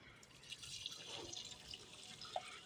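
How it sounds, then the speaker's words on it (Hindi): Water from a jug is poured onto dry potted plants, a faint, soft trickle and splash with a few scattered drips, heard without talking. "तो ऐसे ही जग के साथ ना सबको पानी डालेंगे"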